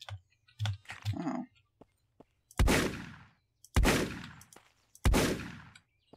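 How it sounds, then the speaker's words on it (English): Shotgun firing in the video game Signs of Life: three loud, sharp blasts about a second apart, each with a quick decaying tail, preceded by a few soft clicks and thumps. "the shotgun does a lot more damage than you'd expect"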